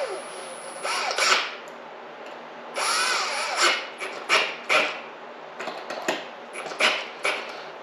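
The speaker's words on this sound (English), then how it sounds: "that's just a drill, guys." Power drill spinning in short bursts during a new carburetor install on a Poulin chainsaw, close and fairly loud, several whirring runs with brief stops between them.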